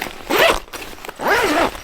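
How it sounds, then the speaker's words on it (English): A zipper on a sewn roof top tent for a Ford F150 is run shut and then open again: two clear, close zipping strokes with a short pause between them. "And zip and unzip."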